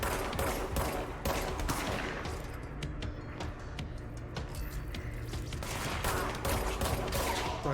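Rapid bursts of gunfire from the shape-shifting service weapon in the video game Control, sharp repeated shots in clustered volleys with mechanical clatter between them, loud and close throughout.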